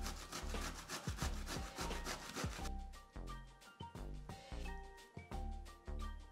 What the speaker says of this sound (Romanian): Pentru pancake vor roade printr-o răzătoare un cartof, dovleacul